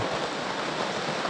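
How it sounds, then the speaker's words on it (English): Steady rain falls on a rainy day, a soft, even hiss of drops with no talk over it. "This is the most that it's been raining,"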